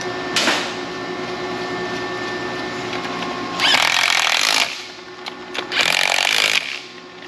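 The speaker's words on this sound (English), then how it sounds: "got the torque wrench that's already preset" A preset torque wrench tightens bolts during a Porsche engine bottom-end assembly, heard as two short bursts of dense metallic ratcheting against a steady workshop hum.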